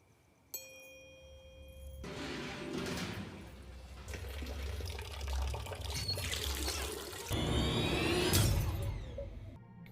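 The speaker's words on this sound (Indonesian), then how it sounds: "keran air di kamar mandi tiba-tiba saja bersuara." Water suddenly gushes from a bathroom tap in a film scene, a steady pouring and splashing that swells louder toward the end, preceded by a brief ringing tone.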